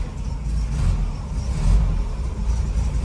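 A VW car engine running and revving steadily at close range, a low, continuous rumble that swells slightly around the middle with no talk over it.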